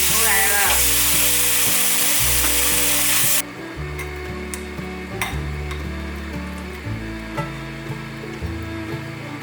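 Marinated king oyster mushrooms fry in oil in a pan, a loud sizzle that drops to a softer, steady crackle partway through, with occasional clinks of a utensil against the pan.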